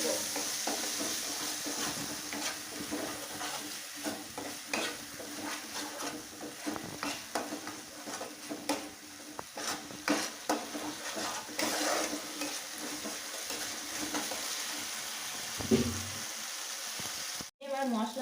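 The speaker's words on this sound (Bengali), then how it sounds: "এবার আমি মশলাটাকে কষিয়ে নেব।" Cumin and spice paste being stir-fried in a pan for a Bengali rohu fish kalia: steady sizzling and frying with continual scraping and stirring, fairly close, with scattered small clinks of the utensil.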